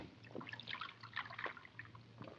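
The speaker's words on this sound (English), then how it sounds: "I'm going to pour for you" Coffee trickles and drips as it is poured from a pot into a cup at a café table, faint and close, in short liquid bursts.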